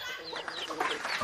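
Chicken clucking in short, irregular bursts at moderate distance, continuing through the brief moment with no one talking.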